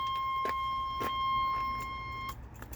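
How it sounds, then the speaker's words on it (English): Key-in-ignition buzzer in a 1986 Chevrolet K5 Blazer, a steady electronic tone held for about two seconds, with faint clicks behind it. "Key buzzer works."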